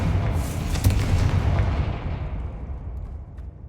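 A Confringo blasting spell explodes in Hogwarts Legacy, a loud, close boom with a sharp crack near the start and a long rumbling tail that slowly fades away.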